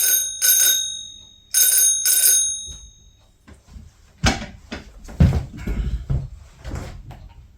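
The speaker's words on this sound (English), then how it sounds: "the last thing is this gold bicycle bell that I got super cheap on eBay" A cheap gold bicycle bell on a La Jolla klunker bike rings in two bright, close double-dings, followed by clattering handling and knocking sounds of the bike.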